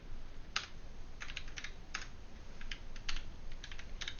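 Irregular keystrokes on a computer keyboard while a command is typed out for a game mod, with clicky taps scattered across a few seconds over a quiet background hum.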